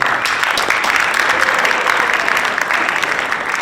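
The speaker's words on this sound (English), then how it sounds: "let's give them a round of applause for all they do" A crowd applauds steadily, a dense, continuous wash of clapping hands that holds at an even level throughout.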